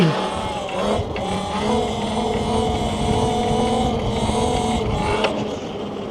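Altis Sigma MX dirt bike on a dirt tire, its motor droning steadily nearby with a rising whine as the rear tire spins, continuous for several seconds.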